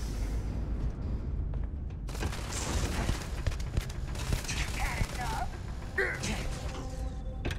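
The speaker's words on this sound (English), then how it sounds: "Stop shooting me!" Sustained gunfire in the space game Starfield, with dense bursts and booming shots running through the whole clip amid game effects, and a voice talking over it at times.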